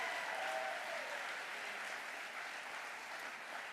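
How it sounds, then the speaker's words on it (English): Audience at the National Safer Communities Summit applauding the Compass Youth Collaborative, continuous clapping from a room crowd, even and fairly distant, with no voices over it. "Give them a round of applause."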